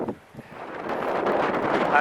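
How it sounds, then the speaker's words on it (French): Gusty wind buffets the microphone outdoors on Ortzanzurieta mountain summit, a rushing, roaring noise that builds and stays strong after a brief lull near the start. "Bien du vent, comme vous pouvez l'entendre"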